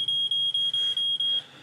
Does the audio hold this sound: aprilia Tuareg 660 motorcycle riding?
no